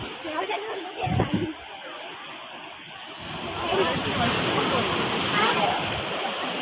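Sea waves wash and splash along a shore, building from a quieter stretch into a fuller rolling surge, with voices talking over the water.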